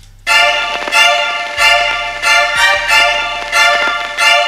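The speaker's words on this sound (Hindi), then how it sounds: "कोर्ड्स में पियानो और वोयलन है।" Piano and violin chords in an FL Studio beat mix strike in a steady repeating pattern, bright sustained harmonies swelling on each hit over a low synth bass line, with no voice.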